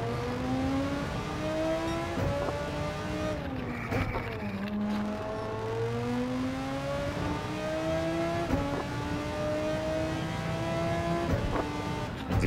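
GT3 race car engine in the video game Gran Turismo 7, a steady droning roar that climbs in pitch through each gear, drops sharply at every shift, then climbs again, continuous and close throughout.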